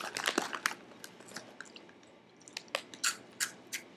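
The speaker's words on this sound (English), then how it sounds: "These are really crunchy." Someone chews crunchy Asian snack foods close to the microphone, a series of sharp crisp crunches and bites in an uneven rhythm that fade briefly and then return in louder bursts.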